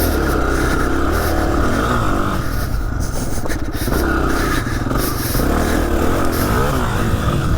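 A Honda CRF300F trail bike runs in second gear on dirt fire roads, the single-cylinder engine buzzing loud and close with rising and falling revs and rough rumble from the ride.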